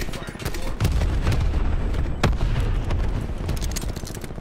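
Artillery strike in Call of Duty Black Ops 4 gameplay: a continuous heavy rumble of booming blasts with a sharp loud impact midway, sustained and dense throughout.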